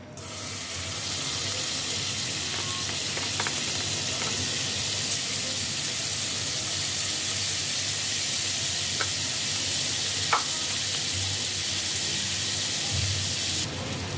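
Steady sizzling hiss of butter melting in a hot kadai on a gas stove, continuous and close, with a few faint clicks of utensils.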